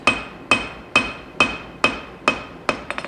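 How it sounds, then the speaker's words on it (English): A cross peen hammer strikes a wootz steel knife blade during forging, landing seven evenly spaced, sharp ringing blows about half a second apart, close and loud, with a few quick light taps at the end. "Now, we'll use the cross peen lengthwise or crosswise."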